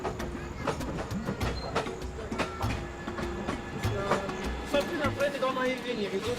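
Train riding along the rails through the Selous Game Reserve, a steady rapid clatter of wheels over rail joints with a faint squeal toward the end, heard under speech.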